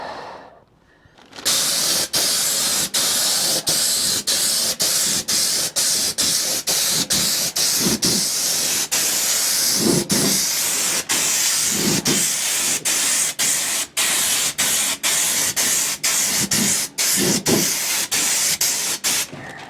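A spray can lays a light coat of paint onto a truck cab floor in a long, steady hiss, broken by short pauses between passes.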